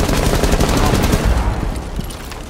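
Shotgun blasts in Rainbow Six Siege, a dense run of loud, booming reports with heavy low rumble in quick succession.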